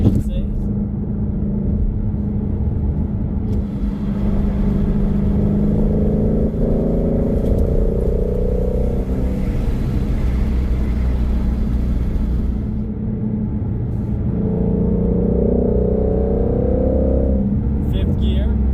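Steady, loud engine drone and exhaust rumble from a Ford Mustang Shelby GT350 with a flat-plane V8, exhaust set to Sport Plus, climbing from 3,500 to 4,000 RPM in fifth gear, heard from inside the car without a break.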